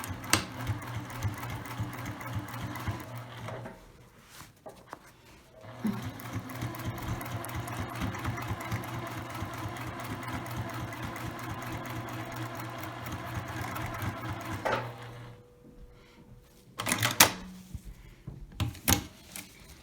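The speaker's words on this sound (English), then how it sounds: "I'm going to start to sew the bottom of the outer fabric first." A sewing machine stitches the bottom seam of a lined tote bag's outer fabric, running in long steady bursts of rapid mechanical chatter with brief pauses and a short back stitch, close and clear.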